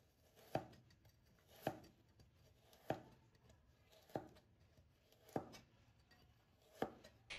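A knife cuts a carrot into thin diagonal slices on a board, six sharp evenly spaced chops about a second apart, close and clear with no talking.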